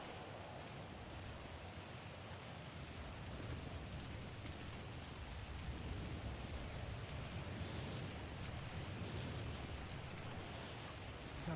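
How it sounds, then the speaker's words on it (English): Heavy rain pours continuously in a dense, even hiss, quite faint overall, with no voices. "the rain is so loud"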